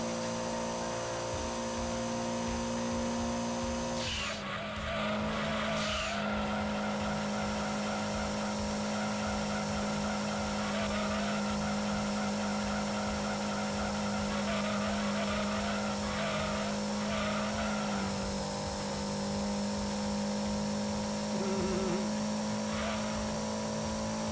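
A racing car in Gran Turismo 2, the HKS Track 180SX, drones with a loud, sustained, high-pitched engine whine, shifting pitch and revving with a brief break early on, alone with no talk.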